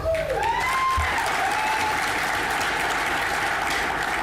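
A hotel function room of corporate employees gives sustained, enthusiastic applause, a dense even roar of clapping crowd with a few faint whistle-like tones riding on top early on.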